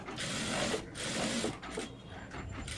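A sewing machine stitches along the canvas edge of a long frock in short bursts, its rapid mechanical whirring starting and pausing several times up close.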